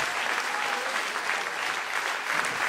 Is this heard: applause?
yes